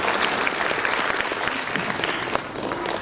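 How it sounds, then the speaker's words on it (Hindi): A crowd at a Bundeli cultural festival applauds in unison, a brief burst of dense, even clapping that carries on at a steady level. "पीएमजी के लिए एक बार तालियों के साथ अभिनंदन।"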